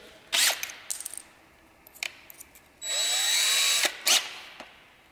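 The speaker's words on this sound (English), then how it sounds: "this is me doing the quickest change possible from screw bit to drill bit" Short bursts of a power drill and ratcheting chuck clicks during a quick change from screw bit to drill bit, then a sustained high whine of the drill spinning, followed by a couple more quick clicks.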